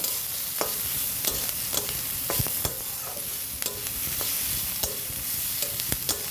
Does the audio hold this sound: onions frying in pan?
yes